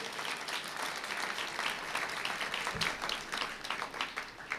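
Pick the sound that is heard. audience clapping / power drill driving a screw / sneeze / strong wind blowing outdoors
audience clapping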